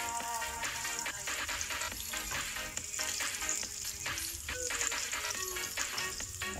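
Mushrooms and garlic fry in a pan with a steady, dense sizzle and crackle that stays close and loud throughout, occasional stirring scrapes mixed in, no voices.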